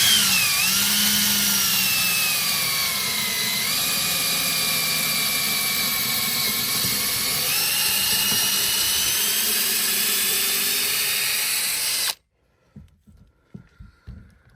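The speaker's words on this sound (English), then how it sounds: "I'm just going to put this right on the center mark as best I can and just drill" Power drill boring straight down through a center mark, a loud whining motor with shifting pitch running continuously for about twelve seconds before stopping abruptly, followed by faint knocks and handling sounds.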